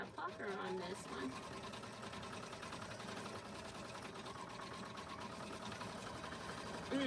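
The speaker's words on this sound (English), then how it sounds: "I'm going to stitch it out and see what it looks like." Embroidery machine stitching out a name badge, a steady fast mechanical whir with rhythmic needle clatter running continuously throughout, close and fairly loud, with a person's voice faintly present underneath.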